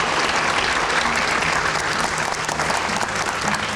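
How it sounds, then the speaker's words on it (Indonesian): Dense, loud applause from a studio audience during an Indonesian political discussion show, a steady roar of clapping for a few seconds. "Kita berikan tepuk tangan dulu."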